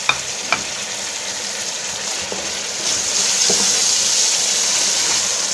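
Tomatoes drop into a hot pan with ginger-garlic paste for a beef curry, two quick clicks giving way to a steady hiss of frying that grows louder and fuller halfway through.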